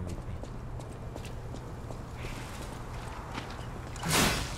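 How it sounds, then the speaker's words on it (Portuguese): Horse hooves clip-clop steadily in the video game Lies of P, a rhythmic clatter of hoofbeats at moderate distance, ending in a louder whooshing burst. "Ó o cavalo, cara."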